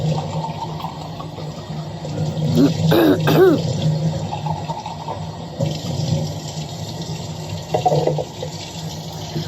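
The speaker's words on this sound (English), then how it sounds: "We wash all the bottles that we use out really good." Tap water runs steadily while baby bottles are washed at a sink, a continuous splashing hiss with a louder burst of rinsing and clinking near the middle.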